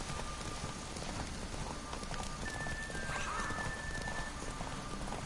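Hooves of the horse Roach clip-clop steadily in The Witcher 3, with occasional whinnies over a constant background of rain and ambient noise.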